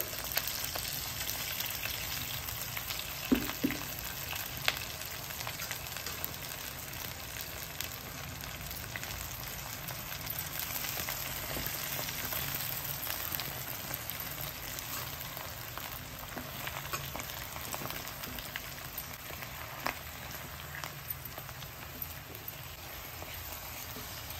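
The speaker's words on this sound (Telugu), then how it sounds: "ఇందులో ఆకు కొంచెం కొంచెంగా వేసి మగ్గించుకుందాం." Steady close sizzling of gongura leaves frying and wilting in a pan, a continuous crackling hiss with occasional faint stirring knocks, no voices.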